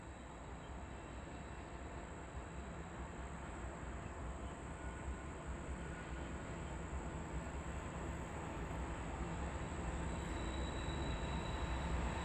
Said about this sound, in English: And the train fades off into the bend.